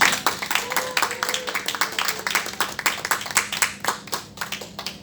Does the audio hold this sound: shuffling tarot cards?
no